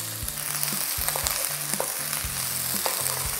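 Onion being sautéed in oil for ginisang repolyo, a loud continuous sizzle with repeated scrapes and knocks of a utensil in the pan at an uneven rhythm.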